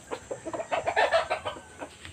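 Farmyard chickens cluck and squawk in quick irregular bursts, several birds calling close by, one louder cluck peaking midway with scattered shorter calls on either side.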